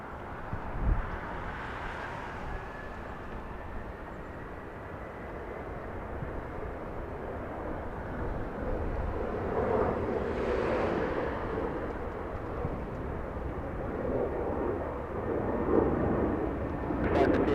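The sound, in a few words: Delta 323 Heavy airliner taking off, runway 24 left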